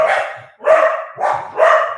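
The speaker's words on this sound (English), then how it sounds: "They've just had to listen to the dogs barking" Dogs bark four times, loud and close, in a quick, evenly spaced run with brief gaps between the barks.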